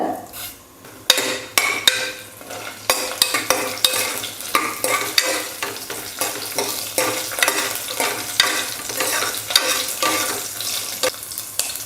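Oil sizzles and crackles steadily in a pan as cumin, garlic cloves and dried red chillies fry, with occasional stirring and scraping of a utensil close by.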